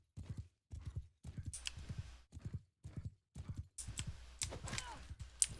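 Horse hooves galloping in Mount & Blade: Bannerlord, a quick repeating clip-clop beat, close and moderately quiet, with some clattering battle noise building near the end.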